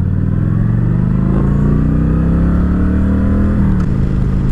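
A motorcycle engine downshifting while riding with a dog on the tank, close and loud, with rising and falling revs through the shifts and steady wind rumble beneath.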